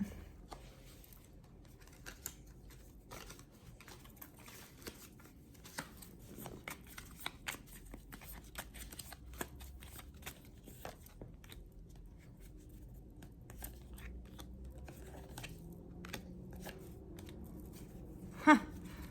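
Tarot cards being shuffled in a quiet room, a soft stream of light papery clicks and riffles running continuously at low level, with no talking.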